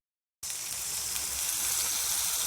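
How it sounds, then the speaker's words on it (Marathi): Gravy poured onto fried ginger-garlic paste for soybean chilli bursts into a loud, steady sizzle after a brief silence, the hiss holding strong and even to the end with no talking. "आता ह्याच्यामध्ये आपण ग्रेव्ही टाकूया"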